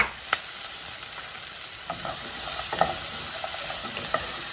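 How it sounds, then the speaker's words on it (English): Carrots sautéing in hot oil for a creamy lentil soup, giving a continuous close sizzle with occasional stirring clicks and scrapes, without any talk. "Now I'm gonna toss in my carrots."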